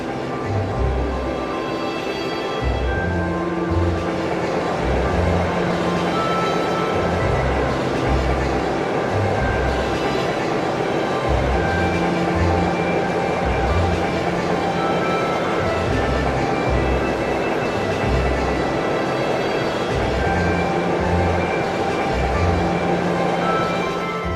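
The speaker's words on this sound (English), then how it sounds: "As we get to see the nice scenic train." Scenic train running in the video game Trails of Cold Steel, a steady loud rumble of wheels with a repeating clickety-clack rhythm over the rails, continuous throughout.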